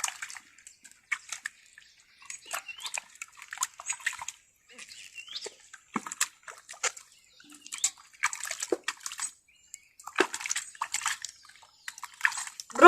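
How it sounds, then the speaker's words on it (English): Potatoes being washed by hand in water in an African village kitchen, intermittent splashes and sloshing in irregular bursts with quiet gaps between them. "Time to wash my potatoes, guys."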